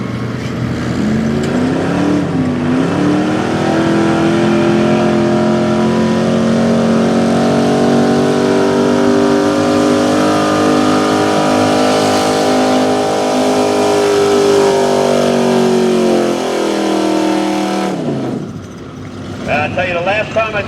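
Ford pulling truck at a truck pull event, its engine roaring loudly and continuously with a sustained, wavering high-rev howl for most of the run before cutting off sharply; an announcer talks over it.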